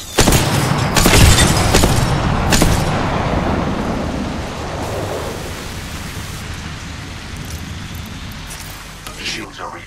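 Grenade explosions in Apex Legends land in a heavy rumbling barrage, several loud booms at the start that roll off into a long fading low rumble, with a voice faintly under it.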